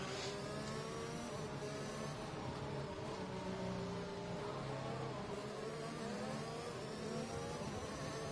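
High, whining Formula 1 engines rev continuously at Spa in an F1 game on PS4, their pitch sliding up and down as several cars roar past together without pause.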